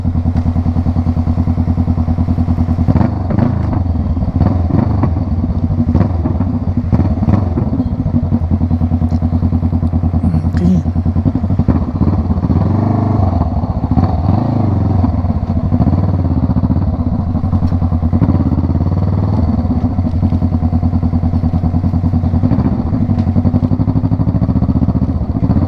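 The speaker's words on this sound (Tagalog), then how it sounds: "Medyo maingay ng butso natin, magigising yung mga tulog." A motorcycle with a loud exhaust rumbles on a ride, a heavy continuous throaty drone with uneven pops and thuds, close and dominant.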